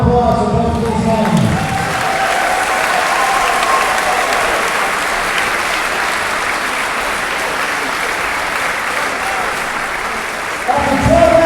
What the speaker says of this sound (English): have a round of applause for both of these men